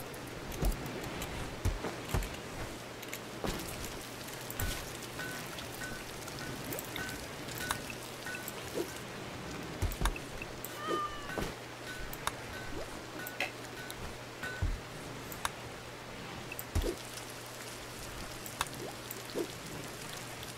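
Steady rain in the colony-building game RimWorld falls as a soft, constant hiss of drops with faint scattered ticks throughout, quiet and unbroken, and no speech.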